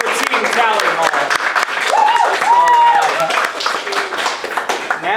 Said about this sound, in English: Applause for Team Tally Hall.